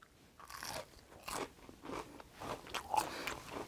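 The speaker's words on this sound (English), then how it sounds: "I'm chewing with my mouth open a little bit because I want you guys to hear the crunch." Close, crisp crunching and biting of a jalapeno-seasoned fried snack dipped in ranch dressing, a series of sharp chewing bursts in a steady rhythm with no talk.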